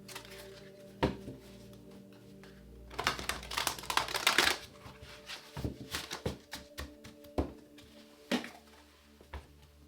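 Tarot cards are shuffled by hand, giving dense papery riffles and sharp taps in uneven bursts, close and fairly quiet, with a longer flurry partway through and no speech.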